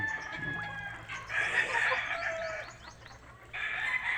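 A gamefowl broodcock, a black rooster, clucks and calls in several bursts close by, with other chickens sounding around it in a farmyard.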